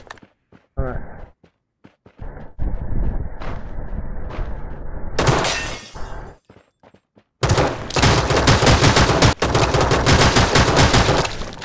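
Gunfire in the battle-royale game Rules of Survival, including sniper shots: sharp isolated cracks followed by long loud bursts of rapid shooting, close and intense, with footsteps between.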